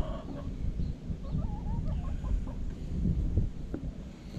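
Chickens clucking softly nearby, a few short murmuring calls over a low rumbling background.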